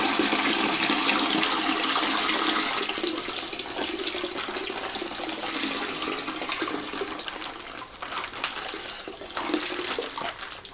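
Water gushing and splashing into a pail during winemaking, loud and continuous at first, then easing into a lighter trickling pour.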